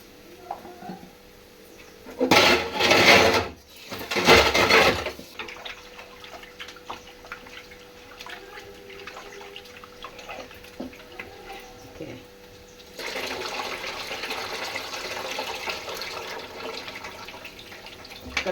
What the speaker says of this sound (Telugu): చికెన్ ఉప్పు వేసి కడిగేస్తాను అనమాట